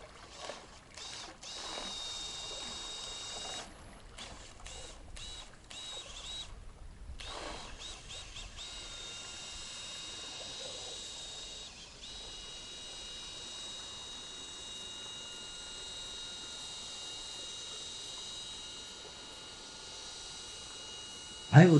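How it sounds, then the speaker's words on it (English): A small drill-powered electric outboard motor on a DIY boat whines steadily for a long stretch, a thin continuous drone with some choppy cuts early on and a sudden loud burst at the end. "the very first test drive of my boat with drill powered motors"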